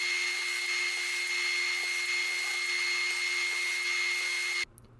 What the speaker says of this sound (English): I pre-drill all the holes with a countersink bit on the bottom side of these boards.